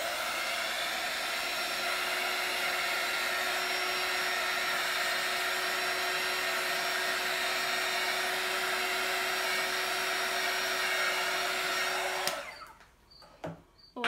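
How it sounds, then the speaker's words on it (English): Heat gun gently warming a resin necklace: a steady, loud blowing hum that runs continuously for most of the stretch, then switches off abruptly, leaving a few faint handling clicks. "Also very gently going to heat that with the heat gun."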